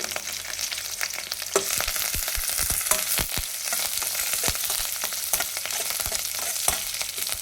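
Crushed garlic with peel, curry leaves and a couple of dry red chillies crackle in hot oil, with a steady sizzle and repeated sharp ladle clacks and scrapes against the pan, close up.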